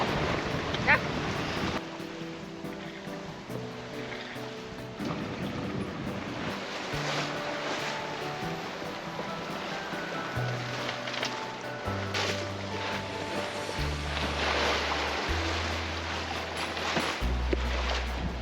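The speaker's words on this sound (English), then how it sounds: "we have the waves coming from behind now instead from right at our bow" Sea waves wash and wind rushes around a sailboat at sea in Norwegian waters, a steady churning background heard under music that plays throughout.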